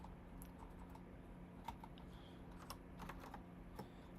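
Scattered keystrokes on a computer keyboard tap out at an irregular pace, faint and close against a steady low hum, with no talking.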